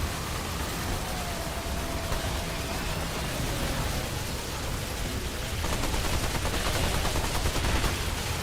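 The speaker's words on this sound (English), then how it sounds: "Shooting the one guy he can't kill. Sounds like my turret." Automatic turret gunfire in Remnant 2, a continuous dense rattle of rapid shots blended with noisy battle ambience, steady and loud throughout, growing slightly more intense toward the end.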